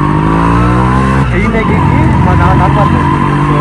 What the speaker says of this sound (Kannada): ಇವಾಗ ನಾವು ಮೇರಾಜ್ಪುರ ಗಾಡಿಯಲ್ಲಿ ಹೋಗ್ತಾ ಇದ್ದೀರಿ